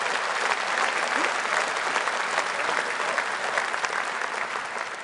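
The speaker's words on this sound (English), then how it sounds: "Got a round of applause." A crowd at a political rally in Birmingham applauds steadily, dense clapping holding a constant level throughout.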